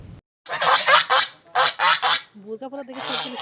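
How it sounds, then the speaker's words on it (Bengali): White domestic geese honk near water in a quick run of loud, close calls, with brief pauses between bursts and a final series of shorter nasal honks. "এখানে আবার দুইটা রাজহাঁস। রাজহাঁসের জাত আছে, কিন্তু সাদা এত সুন্দর রাজহাঁস দেখা যায় না।"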